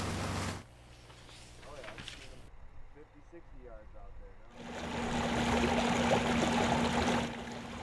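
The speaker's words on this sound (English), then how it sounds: "the driver backs up to the water's edge, pulls the plug, and the fish ride a stream of water into their new home" Fish pour out of a hatchery truck's tank in a rushing stream of water at the water's edge at Wyoming's Story Hatchery; a steady, loud wash of flowing water swells in the second half after a quieter start.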